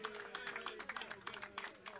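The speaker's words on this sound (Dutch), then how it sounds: "Een fantastisch applaus, dames en heren." Applause from a crowd for the winner of a cycling race in Zevenhuizen, a faint, patchy ripple of clapping, partly masked by an announcer talking over it.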